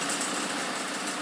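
A drilling machine runs steadily at high speed while a workpiece is centered, a continuous whirring drone with no pauses and no voices.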